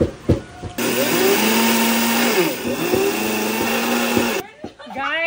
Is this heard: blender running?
yes